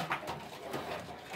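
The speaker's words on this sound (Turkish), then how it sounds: "Bu da çok muazzam bir güvercin." A female pigeon coos close by in a loft, one short soft burst of low cooing over a steady background hiss.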